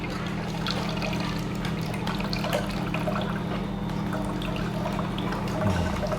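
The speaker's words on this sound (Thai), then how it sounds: "น้ำนมข้าวโพดก็เริ่มไหลออกมาแล้วนะครับ" Corn milk trickles from a Hurom H22 slow juicer, a soft continuous pouring and dripping sound over the machine's low steady motor hum.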